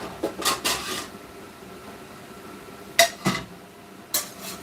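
A plate picked up and handled in a home kitchen: a few short, bright clinks and clatters, one quick cluster near the start and a couple more near the end, with quiet in between.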